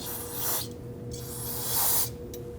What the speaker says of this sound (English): So I like to use a little bit of spray solvent